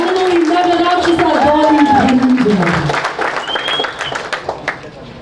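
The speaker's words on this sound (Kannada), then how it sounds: "ದಯವಿಟ್ಟು ಜೋರಾದ ಚಪ್ಪಾಳೆಯೊಂದಿಗೆ ಸ್ವಾಗತಿಸಿ ನಟರಾಕ್ಷಸ" Audience applause welcoming a Kannada actor, writer and producer onto a stage, a dense crowd clapping under loud music and voices that fades after a few seconds.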